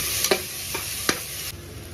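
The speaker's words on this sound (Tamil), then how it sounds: "வெங்காயம் போட்டுக்கோங்க. நல்லா வதக்கி விட்டுக்கோங்க. கொஞ்சம் ஸ்பீடாக வச்சு வதக்கிக்கோங்க" Onion and ginger-garlic paste frying in oil over high heat, a continuous close sizzle broken by three distinct spatula scrapes as it is stirred.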